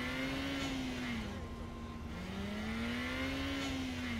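A car driven in Saints Row: The Third, its engine droning at a steady pitch that rises and dips gently with the throttle, moderately loud and continuous.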